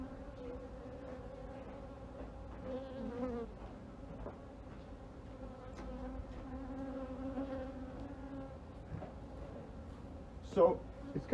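Honey bees buzz around an open hive during an inspection and split, a low continuous drone of many insects with a few louder passes near the end, while a person talks over it.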